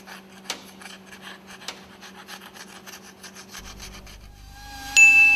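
An engine piston crown is scrubbed clean with quick, rhythmic rasping strokes, close and moderately loud, ending in a sharper metallic clatter.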